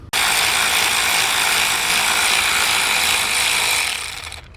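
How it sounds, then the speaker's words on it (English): Ratchet with a 10mm deep 3/8 drive socket spinning bolts off a car, a loud, fast continuous clicking close by that runs for about four seconds before easing off. "we have a 10mm deep 3/8 drive socket, and we're gonna go here and let's take all 4 of those off."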